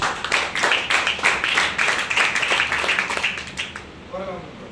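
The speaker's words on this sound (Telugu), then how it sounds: "చప్పట్లు కొట్టము సార్" A congregation in a rural church clapping together, a dense run of fast hand claps that fills the room for several seconds, then fades out as a voice begins speaking.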